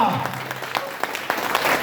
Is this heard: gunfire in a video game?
no